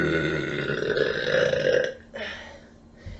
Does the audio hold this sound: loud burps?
yes